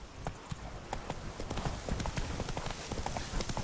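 Roach, Geralt's horse in The Witcher 3: Wild Hunt on PS4, trots with a steady, close clip-clop of hooves over a busy background of game ambience.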